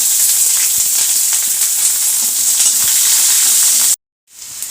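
Ginger and garlic sautéing in hot oil with dried red chillies in a kadai, a loud, close, continuous sizzle and hiss with light stirring, cutting out abruptly near the end before faintly resuming.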